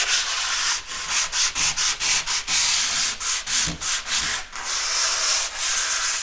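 Rhythmic hand sanding of a painting close by, rapid scratchy strokes in quick bursts with short pauses, abrasive and loud, no voices.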